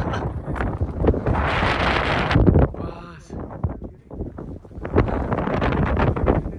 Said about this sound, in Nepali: चिसो हावा हिउँको है दाइ